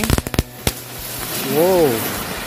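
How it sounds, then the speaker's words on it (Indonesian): Spinning firecrackers, two packs lit together, let off a rapid string of sharp, close pops and crackles, with one last bang. A wavering, whistle-like tone follows over a hissy background. "yang selanjutnya ini kita aduin petasan gangsing. Ini kita coba 2 pak sekaligus ya"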